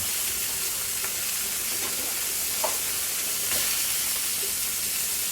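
Butter and onion rings sizzle steadily on a hot sizzling plate while squid is cooked, a dense continuous crackling hiss with a few sharper pops and spits rising above it.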